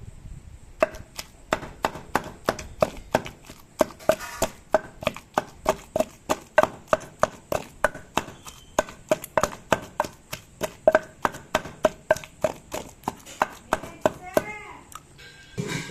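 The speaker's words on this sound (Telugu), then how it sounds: "కొంచెం ఉల్లిపాయలు నల్లగా దంచుకోండి" Onions pounded in a mortar for tamarind chutney: a long run of sharp, close thuds in a steady, even rhythm, about two strikes per second, with no talking.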